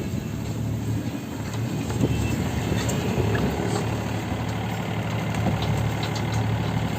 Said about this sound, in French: on a mis un petit appui moteur